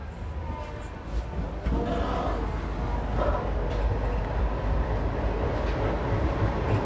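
Mumbai Bidar Express train running past, a dense rumbling rattle of wheels and carriages with faint higher squeals, steady and moderately loud, with some crowd murmur around.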